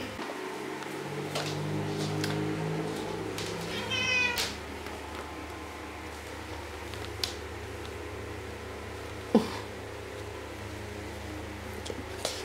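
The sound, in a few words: cat meowing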